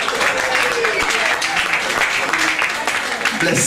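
Applause from the crowd at a live music night, a steady broadband wash of clapping lasting throughout, with a voice speaking over it.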